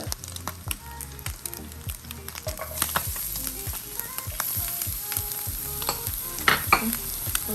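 Garlic frying in a little oil for Filipino garlic fried rice, a steady sizzle broken by repeated scraping and stirring strokes of a utensil against the pan, close and clear.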